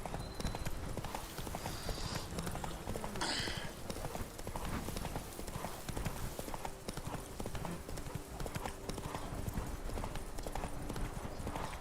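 A horse gallops in The Witcher 3 video game, its hooves drumming in a fast, even clip-clop rhythm that continues throughout, with a brief whinny-like sound early on.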